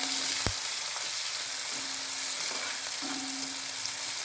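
Onion frying with a little salt in a pan for curry: an even, loud sizzle runs throughout, with a sharp knock near the start and occasional soft scraping stirs, no voices.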